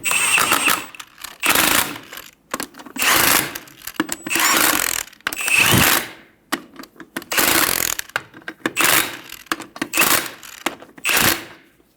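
Brake bolts on a 2000-2007 Ford Focus are run down with a ratchet in repeated loud bursts of rapid clicking, each about a second long with short pauses between, close and dominant.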